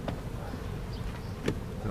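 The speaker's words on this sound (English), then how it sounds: "Bees look good." Honey bees buzz around an open beehive during a hive inspection, a faint continuous hum with a couple of brief closer passes.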